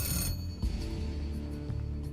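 A telephone at an isolated northern outpost rings loudly and steadily in a sustained burst, then falls quiet into a low, humming room tone with faint clicks.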